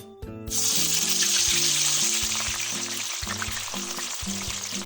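Onions frying in hot oil for a meal maker kola, giving a loud, steady sizzle that starts abruptly after a brief moment and continues throughout over background music.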